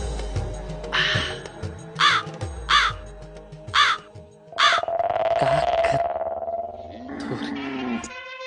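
Crow cawing nearby: several sharp, harsh caws at irregular intervals, followed by a longer, drawn-out, wavering call.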